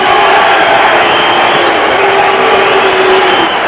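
A boxing arena crowd roars loudly and continuously as heavyweight Greg Page is introduced before his fight with Tim Witherspoon, a dense mix of cheers, boos and shouting with no distinct announcer voice over it.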